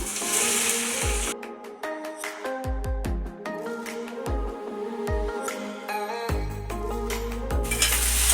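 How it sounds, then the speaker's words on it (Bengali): Chickpeas fry in hot mustard oil in a wok, with a constant sizzle punctuated by repeated clinks and scrapes of a utensil against the metal, loud and close. "তেলটা গরম হয়ে গেছে, এর মধ্যে আমি চানাগুলোকে ভেজে নেব।"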